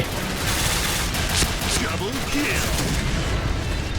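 Rapid gunfire in the online shooter Point Blank, dense bursts of shots and booming impacts running throughout, with someone talking over the shooting.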